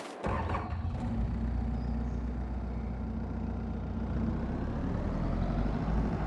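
A telehandler engine idles inside a farm shed, a steady low diesel rumble that starts abruptly and holds at a constant, fairly loud level with no talking.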